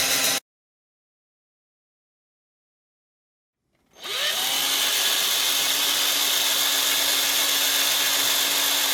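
A power drill starts after a few seconds of silence and runs steadily at high speed, loud and close, with no pauses, driving screws while modding a PS3 fan.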